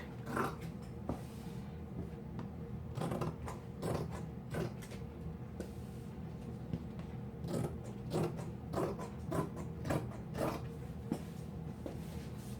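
Scissors cut through fabric along marked lines, giving repeated crisp snips and creaks in an uneven rhythm, close and fairly quiet, with no voices.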